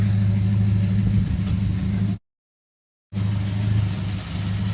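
An old car engine idles smoothly just after starting, a steady low rumbling hum with a brief gap of silence partway through.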